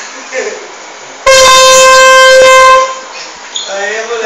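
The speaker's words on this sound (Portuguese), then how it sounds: "Dá uma buzina lá, só pra garantir." Loud, blaring air horn sounded in a TV show studio, one sustained blast of about a second and a half, with people talking faintly before and after.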